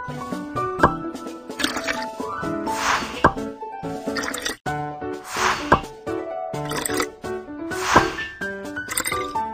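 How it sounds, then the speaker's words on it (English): Ice cream mixture pours into a mold with a run of wet plops, drips and squishy liquid sounds, set against a bright, playful musical backing. "Let's pour the mixture into the mold."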